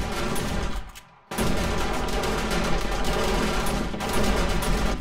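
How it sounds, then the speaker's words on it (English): Seven or eight automatic turrets fire nonstop at a zombie horde on horde night in a Borderlandz video game, a dense, loud, continuous rattle of overlapping gunfire with one brief lull early on. "even just 7 or 8 turrets permanently shooting"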